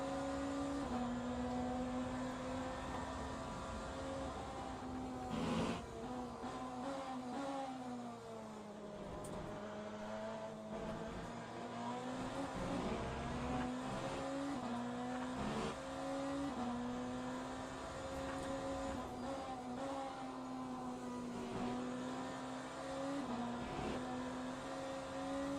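A BMW hypercar laps Le Mans with its engine droning loudly, the pitch rising and falling as it shifts gears and works through corners, with no voices.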